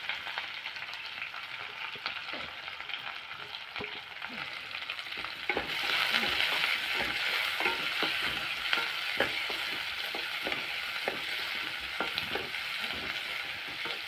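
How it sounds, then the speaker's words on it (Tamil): Onions and curry leaves sauté together in oil for murungakai thokku. A gentle sizzle swells into a louder, steady fry about halfway through, with frequent clicks and scrapes from stirring. "வெங்காயத்தை போட்டு கருவேப்பிலை, வெங்காயத்தை ரெண்டையும் ஒட்டுக்கா போட்டு வதக்கிக்கலாம்"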